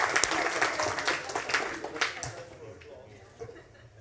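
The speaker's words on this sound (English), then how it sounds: "give yourselves a round of applause." A conference audience applauds, the clapping loud at first and then tapering off into scattered claps and quiet murmuring.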